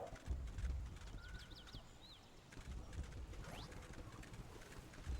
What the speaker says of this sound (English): every time Spyro runs, it sounds like he's a metallic horse